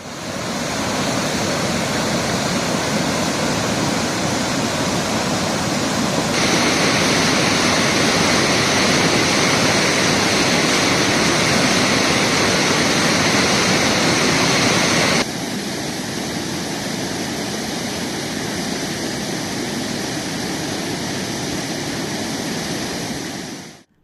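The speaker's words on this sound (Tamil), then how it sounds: "தேனி மாவட்டம் சுருளி அருவியில் வெள்ளப்பெருக்கு ஏற்பட்டுள்ளதால் டூரிஸ்டுகள் குளிக்க 3வது நாளாக தடை விதிக்கப்பட்டுள்ளது" Flooded Suruli waterfall in Theni district, a loud, dense, continuous roar of rushing water at close range, unbroken for the whole stretch with no voices.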